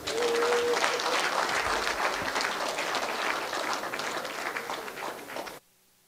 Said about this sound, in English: Please, can we applaud him better?